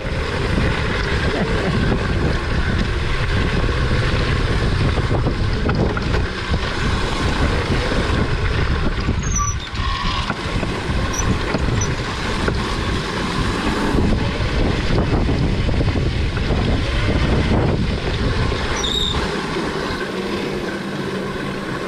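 An electric Razor MX dirt bike fitted with a 5kW E&C upgrade rips along a trail, its whine buried in heavy, constant wind rush and rumble, with a few brief sharp clicks.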